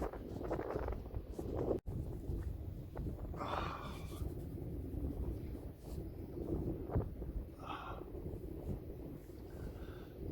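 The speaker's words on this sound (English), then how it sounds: "That wind's getting up a bit now, guys. I just hope it ain't coming out on the video." Wind buffets a microphone on the shore during sea fishing, a steady close rumbling roar that runs throughout with faint gusty swells and no talk.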